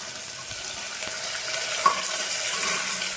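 Onions with capsicum and green peas frying in a pan for veg pulao, a steady soft sizzle with faint scraping and stirring, no talk.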